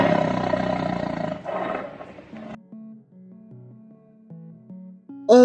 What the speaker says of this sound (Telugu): టైగర్